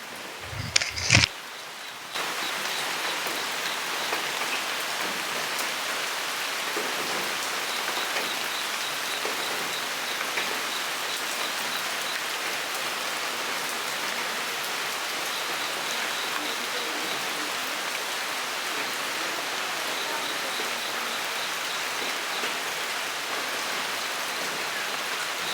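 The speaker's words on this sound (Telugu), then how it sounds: "ఎర్లీ మార్నింగే రెయిన్ అయితే స్టార్ట్ అయిందనమాట, వర్షం." Steady early-morning rain falls near Mirjan Fort, close to Gokarna in Karnataka, an even close hiss of drops on surfaces that runs unbroken for the whole stretch after a brief louder bump at the start.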